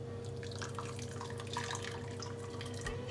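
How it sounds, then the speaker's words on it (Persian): A glass of boiling water is poured into homemade jelly mix and stirred in a kitchen, making a steady, soft splashing trickle with light drips. It plays alone and fairly quietly. "با یک لیوان آب جوش قاطی میکنیم این ژلمون رو هم."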